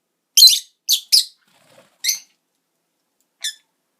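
Pet lovebirds near blackberries give a few sharp, high chirps and squeaks at close range. Three come in quick succession, followed by two more separated by pauses in otherwise quiet surroundings.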